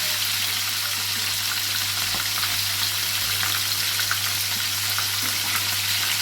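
Fish coated in oil and spices fry in a pan, giving off a loud, constant hiss and sizzle with scattered sharp pops and spatters, close up and without talk.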